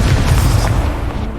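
A Confringo blasting spell in the video game Hogwarts Legacy, a loud close booming explosion that rumbles and fades over about a second.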